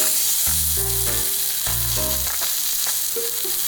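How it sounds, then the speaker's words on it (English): Steak fries in hot oil in a pan, giving a loud, steady, close sizzle that continues throughout without talk. "put a pan on with some oil in, heat it up, and then put in our steak"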